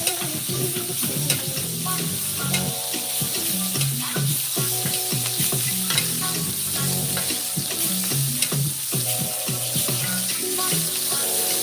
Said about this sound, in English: we're just going to baste the steak as that butter continues